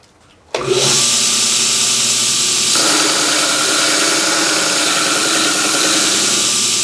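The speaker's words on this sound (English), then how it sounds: "So what I'm doing now is I'm avoiding turning this material blue and trying to get a nice level grind across this piece." A bench grinder runs steadily and loud as a single bevel is ground on a packable draw knife blade, starting abruptly and holding a continuous whine with a slight shift midway.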